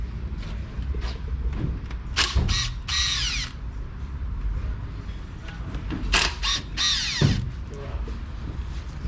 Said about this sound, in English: So we have a clip puller